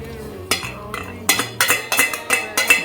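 Ingredients stirred in a pan with a metal utensil: sharp scraping clinks strike the pan in quick irregular succession, close and clear, with no talking.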